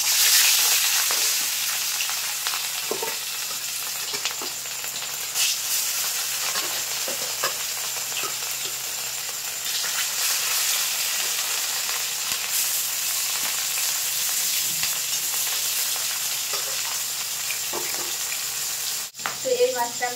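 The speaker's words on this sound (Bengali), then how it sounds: "তো কড়াইটা গরম হলে মাছগুলো ভেজে নেব" Pieces of glass carp fish fry in hot oil in a wok, a steady dense sizzle running close and loud throughout, with occasional light stirring taps and a brief clatter near the end.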